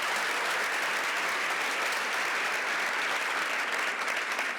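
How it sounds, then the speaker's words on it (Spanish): Inside a church, a congregation gives sustained, even applause, a thick wash of many hands clapping at steady loudness throughout with no talking. "Le damos un aplauso al Dios de los finales hermosos."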